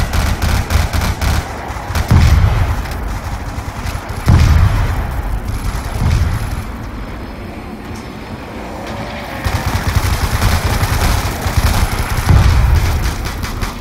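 Gunfire in Call of Duty Black Ops 2 Zombies on PC: loud, dense automatic weapon bursts rattling almost continuously, with heavy booming hits at intervals and a brief lull midway before the shooting picks up again.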